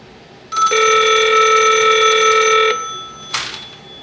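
Viking E-1600A emergency telephone ringing during a test, a steady electronic ring lasting about two seconds, loud and close, followed by a short click and handling noise.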